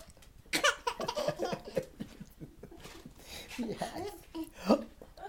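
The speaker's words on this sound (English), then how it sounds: "The hiccups." A baby hiccups in short, sharp bursts scattered through the clip, mixed with giggles and close adult voices talking over them.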